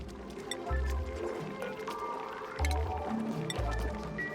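Liquid sucking and gurgling as polluted water is picked up in the colony sim Oxygen Not Included, with repeated low bubbly pulses over a murky game background and soft tonal effects.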